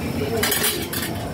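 A teaspoon clinks against a pan of squid adobo as sugar is added: a short burst of bright metallic scraping and tapping, close and fairly loud, without speech.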